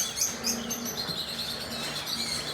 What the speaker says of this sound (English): Bunch of birds here.